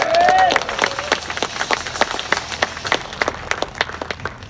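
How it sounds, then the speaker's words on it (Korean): An audience at a Korean War Incheon Landing commemoration ceremony gives a round of applause for honored guests, a burst of clapping that fades into scattered, uneven claps with a brief voice at the start. "이분들에게 큰 박수 부탁드리겠습니다"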